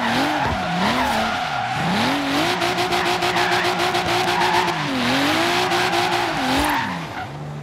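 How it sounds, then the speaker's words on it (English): Forza Horizon 3 car drifting through short corners, its engine revving and falling in sweeping pitch under a continuous loud tire squeal that holds for the whole stretch. "Wow, that drift was sexy as hell"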